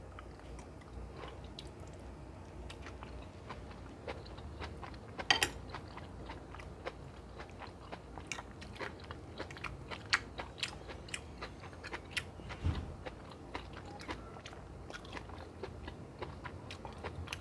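Someone chews and bites into chicken Francaise close to the microphone, producing a continuous stream of soft, sticky, crunchy mouth sounds and small clicks at a low level.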